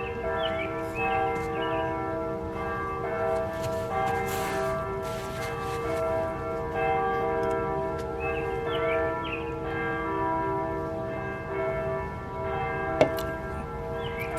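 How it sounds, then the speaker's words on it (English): Church bells of St. Norbert Abbey ring at a distance, sustained tolling tones layered and overlapping across the whole stretch, with faint outdoor background and no talking. "Can you hear the bells?"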